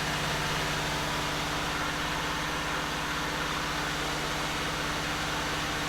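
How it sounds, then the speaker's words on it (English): A 1989 Buick Reatta engine idles high with a steady, low, even hum that holds unchanged throughout, quiet and alone with no talk. "that's probably why it's still idling high"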